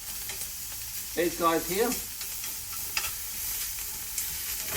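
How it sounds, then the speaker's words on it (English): King prawns fry in a hot pan with a continuous, close sizzle and hiss, joined by a few utensil clicks and a short spoken phrase early on. "So we're talking seconds here, 45 seconds to cook prawns."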